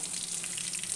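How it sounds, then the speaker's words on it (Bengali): Fish pakoras sizzle steadily in hot oil, a dense, even crackle that stays close and moderately quiet through the short moment, with no voices. "এটা উল্টে পাল্টে ভেজে নেব।"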